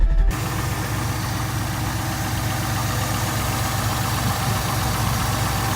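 A Nissan 240SX fitted with a 5.7 liter engine idles steadily after a jumpstart from a 1.5 liter motor, a loud, close, continuous low rumble with a slightly rough, knocking pulse following a brief louder start.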